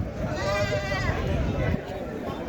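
Goats bleat at the Taherpur goat market, a couple of wavering bleats close by, mixed with crowd chatter and people talking in the busy market.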